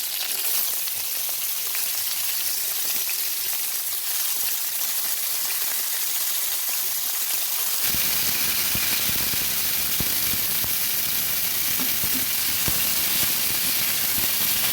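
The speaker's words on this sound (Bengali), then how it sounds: "কড়াইতে আরও কিছুটা তেল দিয়ে এবার ব্রকুলিটা ভেজে নিচ্ছি" Broccoli hits hot oil in a wok and fries with a loud, steady hiss that gets fuller and crackles more about halfway through, close up and continuous with no voices.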